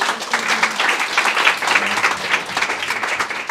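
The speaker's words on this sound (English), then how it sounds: "one round of applause again" Steady applause from an audience at capstone project presentations fills the room, dense and continuous, with a few voices faintly underneath.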